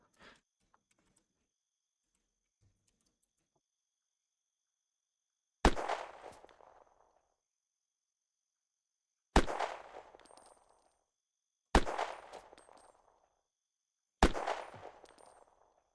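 Four sharp, isolated shots from a video game firefight at a military base, each a loud crack with a short decaying tail, spaced a few seconds apart after a long quiet stretch.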